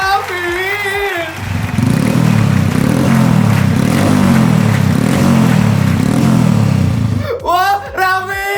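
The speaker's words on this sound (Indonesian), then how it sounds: "Serius dia bawa motor ke ballroom kayak gini?" A motorcycle brought inside a ballroom at a birthday party, its engine running loud and steady with a continuous low rumble and revving for several seconds, while excited people shout over it before it cuts off near the end.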